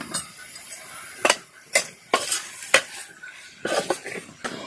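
Mutton being sautéed in a pot: a spoon scrapes and clinks against the metal in repeated sharp strokes over a low sizzle, close and fairly loud.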